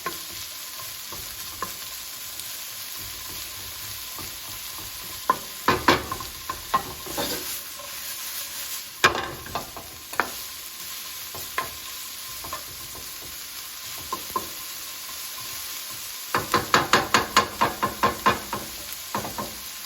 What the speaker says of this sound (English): Add salt. Let it cook until you smell the good smell of the onion.